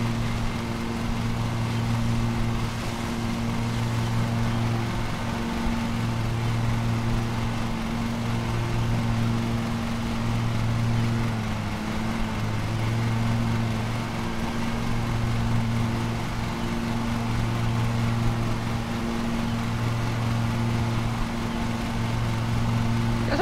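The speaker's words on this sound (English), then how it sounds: "Let's see where I'm mowing here." Riding lawn mower engine in a video game, a steady mid-loud drone with a low hum that holds for the whole stretch, small pitch wobbles as the throttle shifts, no talking over it.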